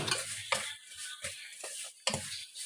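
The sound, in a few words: stirring semolina (sooji) in a pan for halwa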